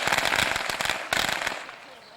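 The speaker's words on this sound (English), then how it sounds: "And there's some good old firecrackers." Strings of firecrackers pop at a Japanese street festival, rapid irregular crackling bursts in two clusters that fade out toward the end, captured on an old camcorder.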